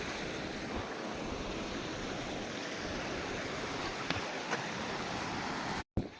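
Water rushes past in a steady, dense flow, an unbroken close wash of noise with no voices over it.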